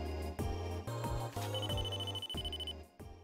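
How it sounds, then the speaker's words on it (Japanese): A mobile phone ringtone plays in a Nintendo DS Kyoto murder-mystery suspense game: a repeating electronic melody of bright, chiming notes, steady and moderately loud for about three seconds, with no voices. "私の携帯電話みたいです。"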